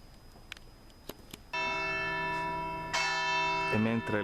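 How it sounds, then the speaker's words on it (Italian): Church bells ring at a cemetery along the Alpe Adria cycle route near Moggio Udinese, with a sustained resonant tone beginning after a few soft ticks and building as further strokes join. "mentre le campane suonano"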